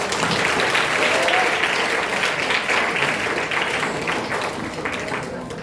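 Loud applause from a crowd after a child's Independence Day recitation at a school event: dense, sustained clapping filling the whole stretch, close and steady, with some voices mixed in beneath.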